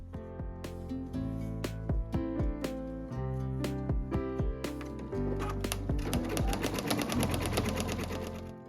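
An embroidery machine stitches a design on a towel, producing a rapid, regular tapping rhythm that grows denser and busier toward the end, close and without talk.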